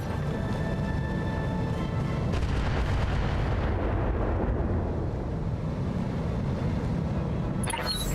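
Sustained heavy barrage of turret gunfire and booming blasts in a BattleTech battle, loud and dense throughout with no pauses, alone without voices.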